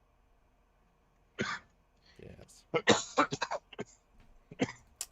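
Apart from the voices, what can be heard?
coughing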